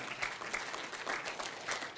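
An audience claps for about two seconds, a dense, moderately loud burst of many hands with no voices over it.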